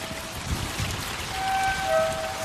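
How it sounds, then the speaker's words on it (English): Rainy-season rain falls steadily at Copan in Honduras, a dense even hiss of drops pattering on surfaces, with a few faint tonal sounds drifting through the wash. "the rainy season descends on Copan."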